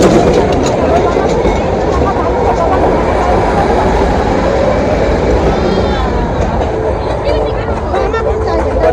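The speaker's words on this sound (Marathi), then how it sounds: "बतासिया लूपमध्ये आम्हाला ट्रेन मिळालेली आहे, ती पण स्टीम इंजिन." Darjeeling Himalayan Railway steam train at Batasia Loop, heard as a steady, loud rumble that fills the whole stretch, with voices talking throughout.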